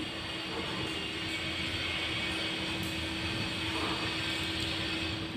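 A sewing machine runs steadily, stitching a boat-neck blouse, its motor humming with a fine mechanical chatter throughout, close and even, with no talking.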